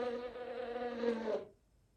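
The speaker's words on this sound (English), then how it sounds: "Bee." A bee buzzes with a steady, droning hum that holds for over a second, close and clear, then cuts off into quiet.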